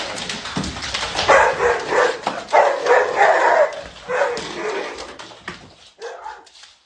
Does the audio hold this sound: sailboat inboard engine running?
no